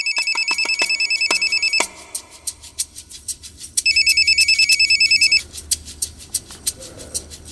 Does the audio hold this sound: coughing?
no